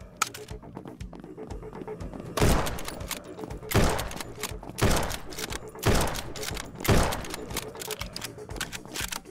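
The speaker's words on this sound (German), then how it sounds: "Scharfschützengewehr schießt durch" Sniper rifle gunfire in the zombie game Ultimate Zombies Defense, with repeated loud shots at a steady pace over a constant clatter of game sounds.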